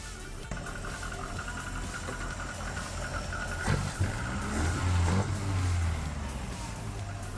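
A car engine fitted with an aftermarket carburettor idles steadily with a low, even hum, a few slight revs rising briefly near the end.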